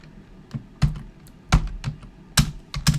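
Code being typed on a computer keyboard, a close, irregular run of clicky keystrokes with small bursts and pauses and no voices.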